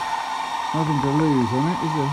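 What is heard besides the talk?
hair dryer running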